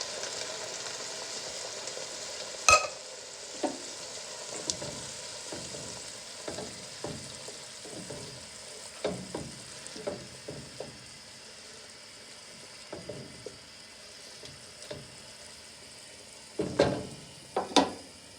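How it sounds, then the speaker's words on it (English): White wine boils and reduces in a pan for penne, a soft steady bubbling hiss broken by repeated scrapes and taps of a utensil stirring, some sharper clinks near the end. "We've got a nice boil going on."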